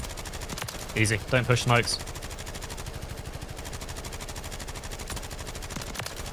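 Rapid gunfire from Call of Duty: Modern Warfare 3, a steady crackle of shots running through the whole stretch, with a player talking briefly over it near the start.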